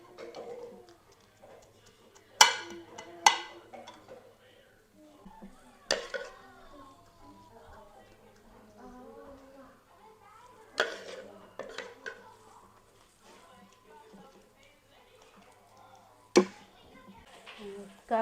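Chicken laab salad spooned onto a serving plate, with soft clinks of utensil on dish, a few sharp scrapes and taps over quiet shuffling; a voice is faintly present.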